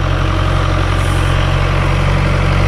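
Farm tractor readying land for planting in Jamaica, its heavy engine running at a steady low rumble, close and loud throughout with no voices.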